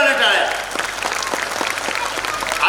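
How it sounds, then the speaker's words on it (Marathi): Audience members at an abacus academy national-level competition award function clap in a dense, sustained round. A voice is heard briefly at the start. "जोराने टाळ्या"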